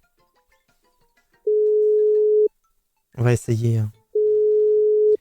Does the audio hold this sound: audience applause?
no